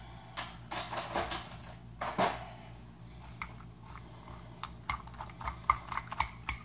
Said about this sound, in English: I'm gonna get a fork here and stir in a little bit.